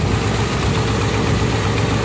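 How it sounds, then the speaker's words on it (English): A Mercury Marauder engine idles with a leaking exhaust manifold, giving a steady, close, continuous low rumble that holds even throughout, with no voices. "got an exhaust leak on the manifolds"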